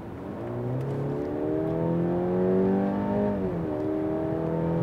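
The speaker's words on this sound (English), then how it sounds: "Let's go to sports mode and accelerate from 50 kilometers to 100." An all-new Mercedes-Benz C300 C-Class W206 sedan accelerates hard in sports mode from 50 to 100 km/h, its engine note climbing steadily in pitch through the gears, heard from inside the car with no talking.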